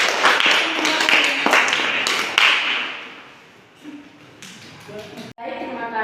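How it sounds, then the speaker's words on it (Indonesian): A class applauding after a student presentation: a few seconds of dense, close clapping that fades out, followed by speech. "kita beri aplaus"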